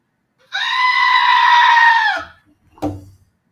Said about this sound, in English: That's a goat scream